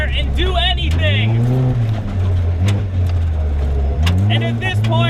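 A Tomcar TX 4x4 UTV driven off road, its engine droning loud and close with rising revs and shifting pitch as it accelerates over rough terrain.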